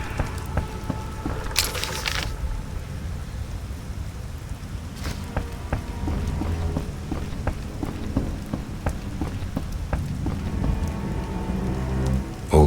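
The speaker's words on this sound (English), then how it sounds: "It's raining." Steady rain patters on surfaces in The Witcher Enhanced Edition, with a dense continuous hiss, scattered distinct drips and a few brief sharper splashes, heard alone without talk.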